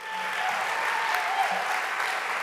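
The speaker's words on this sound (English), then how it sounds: "We, we clap for Brad" A crowd applauding steadily, dense clapping that holds at an even level throughout with no pauses, heard from within the room.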